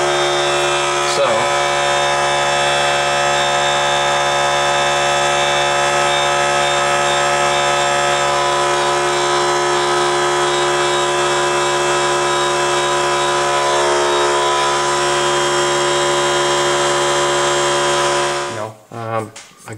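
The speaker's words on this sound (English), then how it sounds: "I don't know if you heard me over that compressor" A garage air compressor runs during a powder coating job, giving a loud, steady mechanical drone that holds unbroken for most of twenty seconds before cutting off abruptly at the end.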